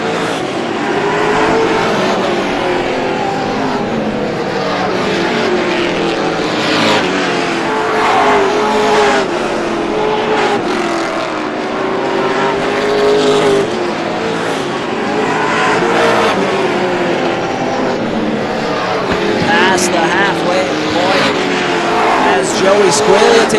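Race cars circle Star Speedway during a 100-lap race, engines roaring and rising and falling continuously as they pass. A loud race announcer talks over them throughout.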